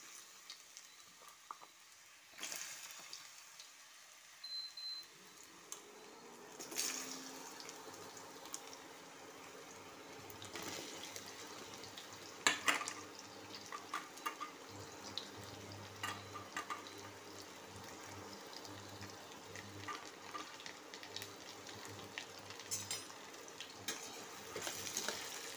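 Raw banana chips dropped into hot oil, a steady soft sizzle and bubbling that rises after a few seconds and continues throughout, with occasional light clatters, faint and without talk.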